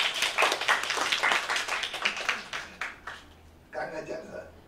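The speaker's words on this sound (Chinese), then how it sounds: "我想我们为台北今天拍手喝彩" Applause at a 2018 literary season press conference, a burst of clapping from a modest crowd that thins out to scattered claps, followed by a voice beginning to speak.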